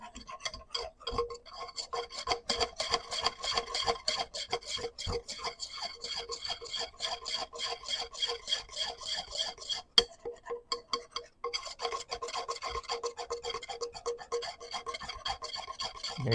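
Whisking caramel in a bowl: a steady run of quick, rhythmic metallic scraping and ticking strokes, close and fairly quiet, with a brief pause near the middle and no talking.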